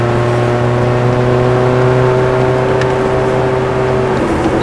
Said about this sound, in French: Allez, accélère de plus en plus, Abdel.